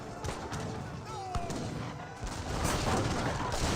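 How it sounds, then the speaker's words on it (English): Heavy cannons fire in a battle in Age of Empires 3, a burst of booming shots and crackling impacts layered with battle noise, dense and continuous over a few seconds. "Heavy cannons push their way forward."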